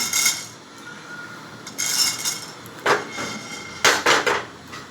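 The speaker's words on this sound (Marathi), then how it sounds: "गॅसवरून मी पॅन ठेवले बघा त्याच्यामध्ये असं ज्वारी टाकते" Sorghum grains pour into a pan on a gas stove in several short, rattling bursts, each a brief, bright clatter of small grains hitting metal, separated by quiet pauses.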